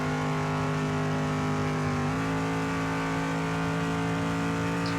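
A NASCAR-style race car engine in the Demolition Derby 3 video game drones at a steady high pitch, shifting slightly partway through, loud and continuous without speech.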